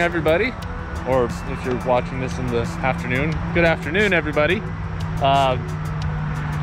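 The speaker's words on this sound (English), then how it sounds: "That noise is a highway," Nearby highway traffic at an outdoor paramotor flying spot, a steady low rumble and hiss that runs continuously beneath someone talking.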